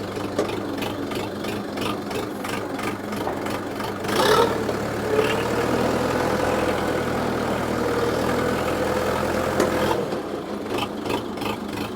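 A FORTE RD-504 minitractor engine runs steadily at a low idle-like chug, with a clunk of a gear shift partway through and the tone changing slightly before settling back.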